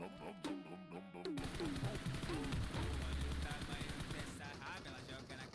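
Rapid bursts of gunfire from the battle royale game Free Fire, including sniper-style shots, crackle steadily through dense in-game noise and music with no pauses.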